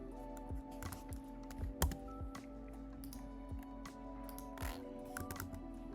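Computer keyboard typing in a quiet room, a quick run of light, irregular key clicks over a steady low hum, with no voices.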